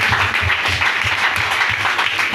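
A church congregation applauds in praise at a children's celebration, a loud, dense wash of clapping with faint rhythmic hand beats running steadily throughout.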